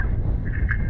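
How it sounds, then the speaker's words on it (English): A Hydrowave fish attractor playing its Schooling Blitz sound gives a short, steady, watery burble with a faint higher chirp, heard close up for about a second. "That is the Schooling Blitz sound."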